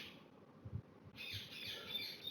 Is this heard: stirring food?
no